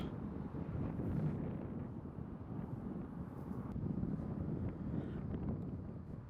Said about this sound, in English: It is just so tough when the wind is whipping like that.